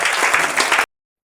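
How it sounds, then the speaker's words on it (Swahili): Church congregation clapping hands together, a dense burst of applause that ends abruptly after under a second. "Pigia Bwana makofi. Piga mikono kwa Yesu."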